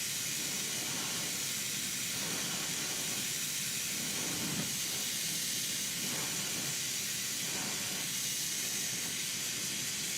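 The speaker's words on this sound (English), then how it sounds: "I'm going to pull this flame down a little" Glassworking torch flame hissing steadily at a lamp-working bench while shaping a hammerhead shark sculpture, a constant broad rushing hiss, close and even for the whole stretch with no talking.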